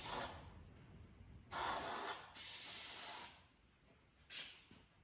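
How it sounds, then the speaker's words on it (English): Starting fluid sprays into the carburetor of an old Lo-boy Farmall tractor in several sharp hissing bursts of varying length, close and alone, with quiet gaps between. "Starting fluid. Spray it right into the carburetor."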